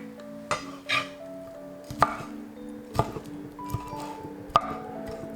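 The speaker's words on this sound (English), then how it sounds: "I'm chopping half of the prawns into small chunks and I'm mincing the other half into a super fine paste" A kitchen knife chops raw prawns by hand on a board in a handful of sharp, separate knocks spaced about a second apart, close and clear over a faint background hum.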